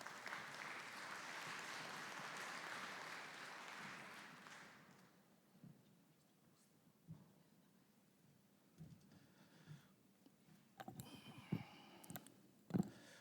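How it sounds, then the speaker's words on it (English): A conference audience claps for a panel at an agricultural investment event, a broad burst that fades out after about four seconds, leaving scattered clicks and small room noises, then a few more claps and sharp knocks near the end. "I think you can give them a round of applause"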